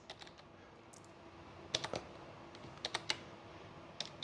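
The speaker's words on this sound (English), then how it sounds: "The keyboard is messing with me again." Computer keyboard typing during a maths lecture: sparse, quiet key clicks come in small clusters, with a few sharper taps near the middle and the end, over a low room hum.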